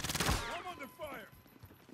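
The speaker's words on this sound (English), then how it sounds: "I'm under fire." Video game gunfire rattles in a quick burst at the start, followed by fainter fading shots and tonal game effects, with a voice briefly heard.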